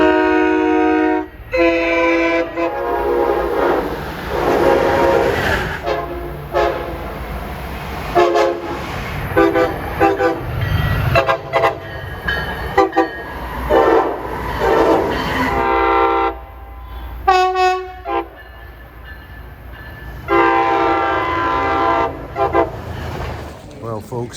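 Model locomotives at a train show in a busy exhibition hall, rumbling along over a steady background with several horn and whistle toots, mixed with crowd chatter and voices talking throughout.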